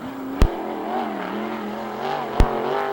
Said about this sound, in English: In the number 5 car, Jordan Hermansader. Flash Jordan, lap number 1